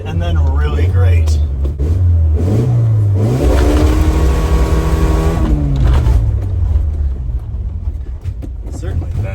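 A 1981 Dodge Challenger engine revs hard and climbs in pitch, holds high, then falls back toward idle, loud and close, with a voice talking over it.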